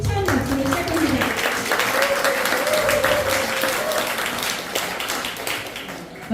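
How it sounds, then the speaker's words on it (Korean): A hall audience applauds to open a unification speech contest, dense sustained clapping throughout with a voice audible over it. "힘찬 박수로 시작합니다."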